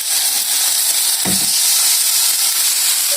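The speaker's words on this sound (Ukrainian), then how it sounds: "викладаю свої стейки" Steaks hit a hot pan and a steady sizzle of frying takes over, a constant bright hiss with a brief thud as they land.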